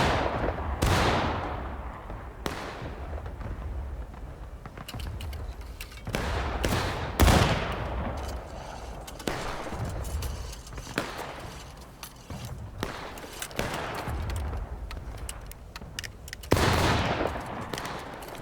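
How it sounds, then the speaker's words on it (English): Repeated musket volleys and scattered rifle shots in War of Rights, sharp cracks echoing at varying distances with irregular rhythm, some close and loud, others distant rolling reports. "I think we're just firing at will."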